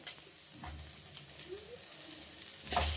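Fennel seeds and tomato sizzle in a pan for a chicken sambar, a continuous close fry with soft stirring, and a louder spoon clatter at the start and again at the end; no voices.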